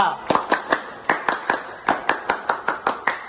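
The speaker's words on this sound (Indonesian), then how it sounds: "3, 2, 1. Tepuk KPK." Classroom group performing a rhythmic clapping chant, about a dozen sharp, evenly spaced claps in a steady beat, loud and close, with voices chanting along.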